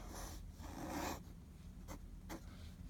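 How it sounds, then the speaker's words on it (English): A firm-nib pen pressed down hard on paper gives a close, quiet scratching: a longer rasping stroke early on, then two short sharp strokes, with no talking. "This pen, which I've been playing with recently, is a firm nib, and it really wants"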